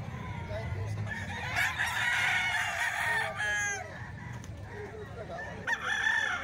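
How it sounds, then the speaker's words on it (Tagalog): Fighting cocks offered for sale crow loudly and close by, one long crow after another over soft clucking and a rumbling background, with someone talking in between. "Ayan, mga gandang manok na yan."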